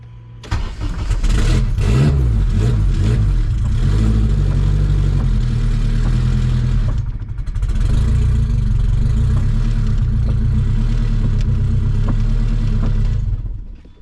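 Kawasaki KRX side-by-side engine, built for 500+ horsepower, firing up for the first time and revving loudly and close, holding a heavy rough roar with a brief dip midway before settling.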